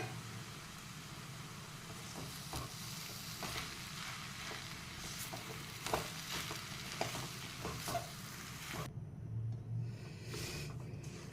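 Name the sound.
stirring a potato and poha burger tikki mixture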